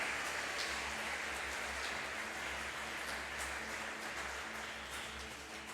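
Dense, sustained applause from a large church congregation, a steady wash of clapping that stays even throughout, heard at a moderate distance.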